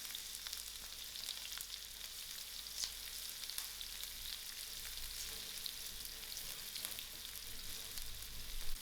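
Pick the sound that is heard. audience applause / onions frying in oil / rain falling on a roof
onions frying in oil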